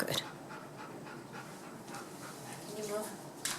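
A dog pants in quick, soft breaths close by, with faint whimpers and a voice speaking quietly in the background.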